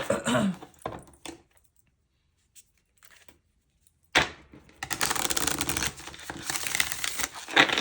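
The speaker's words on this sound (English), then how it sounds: "So I'm just going to shuffle it one more time, and then we're going to cut the deck." A deck of cards is shuffled by hand, with a quick riffle at the start, a near-silent pause, then a longer run of papery flicking and snapping.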